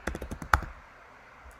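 Fingers type on a computer keyboard, a quick run of about six soft, close clicks followed by a pause and one last keystroke, with no talk.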